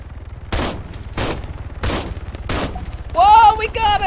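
Four sharp, evenly spaced shots from a Promet 6.5mm rifle in Arma 3 crack out loud and close about a second apart, followed by a voice speaking and laughing.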